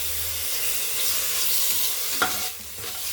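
A spoonful of ginger garlic paste sizzling in a hot pan while being stirred, a steady close hiss with a sharp scrape of the spoon near the end and the sizzle easing afterward, with no speech.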